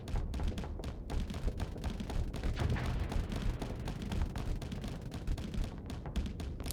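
Ship weapons in a space video game fire in a rapid, dense barrage of thumping blasts and crackling impacts, sustained throughout with no speech.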